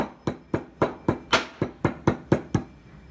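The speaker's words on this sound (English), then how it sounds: "Fold the cloth and again try to break the dry ginger into small pieces as much as possible." Dry ginger wrapped in folded cloth is pounded into pieces: about ten sharp, evenly spaced thuds land in a steady rhythm, loud and close, with no talking.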